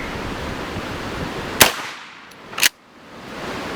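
Two sharp, loud gunshots, each firing a homemade wax slug round at a 10-yard range, about a second apart. Each crack is followed by a quick decay over quiet outdoor background noise.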